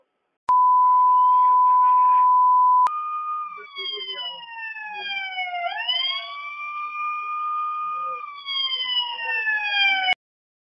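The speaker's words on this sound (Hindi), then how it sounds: "हमारे एग्जीक्यूटिव ने फिर सायरन और शोर मचा" A loud electronic security alarm siren at a retail outlet wails alone, starting with a steady high beep, then sweeping tones that rise and fall repeatedly before cutting off abruptly.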